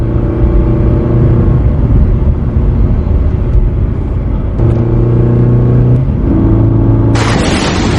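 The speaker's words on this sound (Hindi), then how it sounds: "तभी एक व्यापारी अपनी गाड़ी से गांव में आ जाता है।" A merchant's car drives into a village in a cartoon, its engine a loud, steady rumble with rising revs and shifting tones, ending in a sudden bright burst of hiss.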